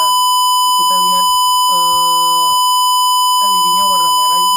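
A buzzer alarm on a microcontroller room-temperature monitor sounds as loud, steady electronic tones, repeating in three bursts with short gaps, over a constant high whine.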